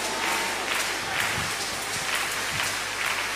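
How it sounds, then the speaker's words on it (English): A church congregation at a Holy Ghost service clapping together, a dense, continuous patter of many hands filling the room at a steady level. "Thank you, those of you who are clapping."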